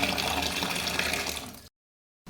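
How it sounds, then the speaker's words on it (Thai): Tap water runs steadily from a faucet while fresh pesticide-free vegetables are washed at a sink, a continuous close splashing flow that cuts off abruptly near the end, no voices. "ปล่อยน้ำให้ไหลทิ้งเลยนะคะ ปล่อยน้ำไหลทิ้งเลยจ้า"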